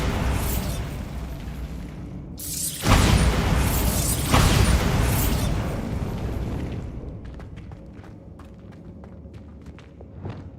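The Bombarda blasting spell in Hogwarts Legacy detonates with a loud booming explosion followed by a second blast, then rumble and debris rattle fading into scattered footsteps and small clatters.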